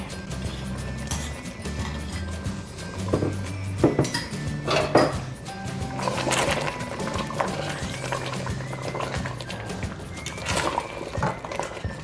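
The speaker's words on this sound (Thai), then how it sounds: "ผัดให้เข้ากันเลยนะคะ mix well with the coconut milk" A metal spoon scrapes and clinks against a pot as shrimp curry paste is stirred into coconut milk, with irregular knocks and rattles over a steady low hum and bursts of louder clatter in the middle.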